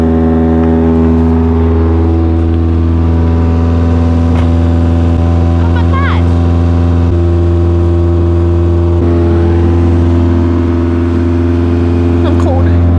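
Toyota AE86 with a loud engine idling high at about 2,000 rpm, a steady close droning hum with strong even tones holding throughout, while people talk over it.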